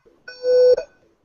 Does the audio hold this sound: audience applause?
no